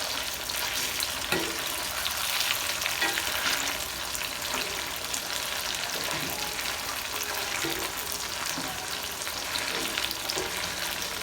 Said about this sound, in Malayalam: ചിക്കൻ പൊരിച്ചിട്ട്